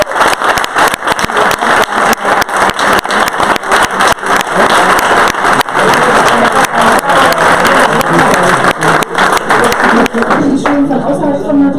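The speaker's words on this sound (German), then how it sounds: "bitte nochmal einen ganz großen Applaus an alle Schüler" A large audience at a school business competition awards event applauds the students with sustained, dense clapping that fills the room and tapers slightly near the end, with some cheering mixed in.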